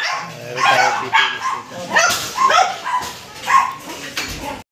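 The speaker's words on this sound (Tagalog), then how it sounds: "Ingay ng mga aso." Several dogs bark and yip in repeated bursts close by, some higher whimpering yelps mixed in, with a person talking briefly over the noise.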